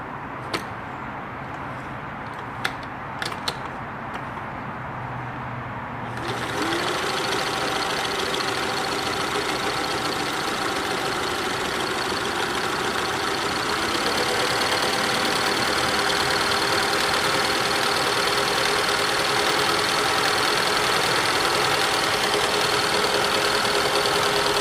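Singer Touch and Sew sewing machine winding its bobbin: a few light clicks give way to a sudden steady motor whir that runs on continuously, close and fairly loud.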